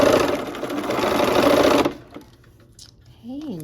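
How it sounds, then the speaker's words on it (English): A sewing machine stitches two quilt blocks together, a loud, close, steady mechanical whir for about two seconds that then stops, followed by quiet handling and a brief voice. "We're gonna go ahead and just sew those two blocks together."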